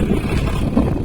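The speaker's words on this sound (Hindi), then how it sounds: "ये देखो अपनी ट्रैक्टर चल रही है" Tractor engine running steadily while ploughing a field, a continuous low rumble with wind noise over an open outdoor setting, no talk.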